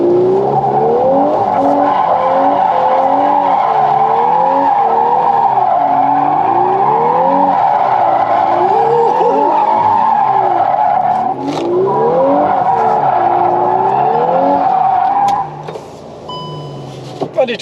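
A Volkswagen Golf R drifts with loud, continuous tire squeal and engine revs rising and falling in repeated sweeps. The sound stays close throughout, then quiets briefly near the end.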